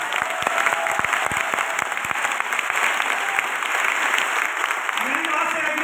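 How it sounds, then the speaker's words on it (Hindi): Audience at a direct-selling motivational seminar in India clapping loudly, with dense sustained applause and sharp individual claps under a steady hum, plus faint cheering toward the end. "पहले उसके लिए एक बार जोरदार तालियां।"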